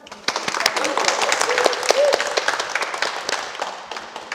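An audience at a Seongnam mayor's civic ceremony gives steady, dense applause for several seconds while a voice speaks over it.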